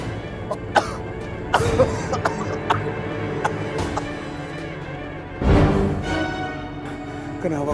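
A person coughs repeatedly, harsh, close-up coughs coming in bursts, with a longer strained coughing fit in the middle and breathy sounds between, coughing up blood.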